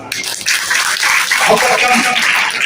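An audience at a lecture on children's literature claps together in a steady, dense wash of applause that starts abruptly and holds loud throughout, with a voice briefly audible beneath.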